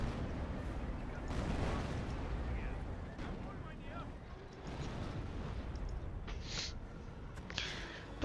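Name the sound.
British creeping artillery barrage, Company of Heroes video game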